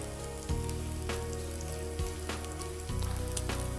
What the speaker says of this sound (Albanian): Do t'i japim një skuqje me zjarr të fortë.